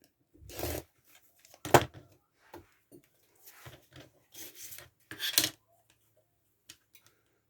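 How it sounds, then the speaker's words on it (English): Fabric is trimmed along a ruler during quilt piecing: a few faint, short scraping strokes scattered among quiet pauses, close but soft. "with my ruler, I'm going to trim this bit."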